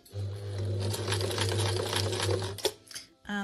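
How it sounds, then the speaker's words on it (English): A sewing machine stitches the hem of a tote bag, giving a steady, even motor whir with a fast rhythmic needle clatter for about two and a half seconds before it stops. A voice speaks over it. "Okay, so let's just sew to about a centimetre away from the bottom."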